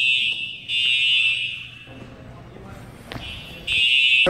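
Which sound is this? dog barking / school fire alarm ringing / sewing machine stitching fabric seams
school fire alarm ringing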